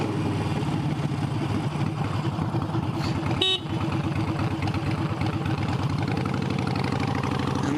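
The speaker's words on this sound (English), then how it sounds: "That was the first time I've ever honked my horn." A motorcycle engine idles steadily nearby, with one short, sharp horn toot cutting through midway.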